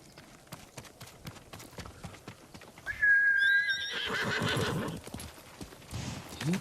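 Kage, the horse in the samurai game Ghost of Tsushima, trots with a steady clip-clop of hooves, then lets out a loud, bright neigh midway before the hoofbeats carry on.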